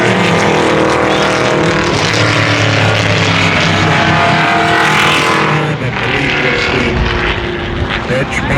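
Vintage race car roaring past on the Canadian Tire Motorsport Park track, a loud sustained engine drone that fades slightly near the end, with someone talking over it.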